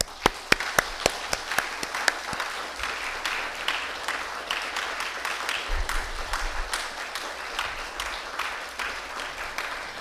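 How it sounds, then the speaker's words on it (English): An audience at a Buddhist naming ceremony claps for Dharma name recipients, a few sharp, close claps at first, then a softer, moderately faint spread of applause that carries on steadily throughout. "And we'll give them a big round of applause."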